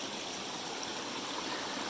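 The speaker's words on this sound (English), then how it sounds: "Let's take a look at that cool little waterfall." A small waterfall flows beside a hiking trail, a soft, continuous rush of water heard alone at a moderate distance.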